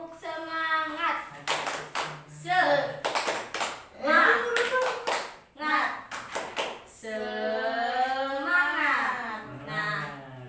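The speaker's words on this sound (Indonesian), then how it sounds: "sok tepuk semangat ibu-ibu, tepuk semangat" Several sharp clap bursts come in quick groups between stretches of someone speaking and singing, the claps loud and close, partly overlapping the voices.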